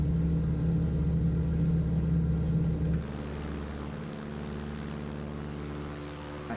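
Single-propeller T-6 Texan trainer climbing out after takeoff in Microsoft Flight Simulator, a loud steady engine and prop drone that eases slightly in level and pitch as it settles into the climb, with no talk.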